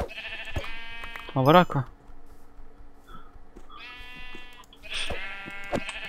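Sheep in the Minecraft video game bleat in a few short, close calls spread across the moment, mixed with game sounds while players talk.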